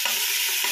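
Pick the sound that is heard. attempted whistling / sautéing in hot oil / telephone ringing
sautéing in hot oil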